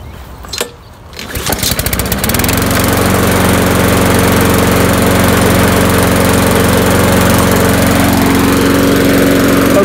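Yard-Man walk-behind lawn mower with a Honda 5.5 HP engine: a couple of sharp pulls, then the engine catches and settles into a loud, steady running drone close by.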